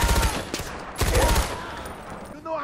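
Loud, close automatic gunfire from the Far Cry 4 game comes in two rapid bursts about a second apart, then quieter fighting sounds follow.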